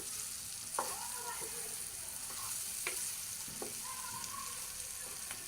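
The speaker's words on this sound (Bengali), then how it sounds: "আমি আবার একটু নাড়াচাড়া করে দিচ্ছি" Fish and vegetable curry made with sea fish and green chillies is stirred in a pan, giving a steady low sizzle with a few sharp scrapes and clinks of the spoon against the pan.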